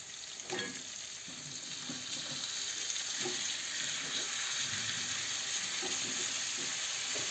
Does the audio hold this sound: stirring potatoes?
yes